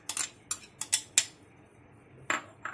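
Fresh coriander goes into a bowl for bhaji batter with a handful of close, sharp clinks and taps in an irregular cluster, then a pause and two more light knocks.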